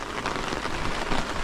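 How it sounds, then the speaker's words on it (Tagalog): Heavy rain pours down steadily near a riverside spot, a dense, continuous hiss of drops striking surfaces without a break and with no talking. "biglang lumakas yung ulan"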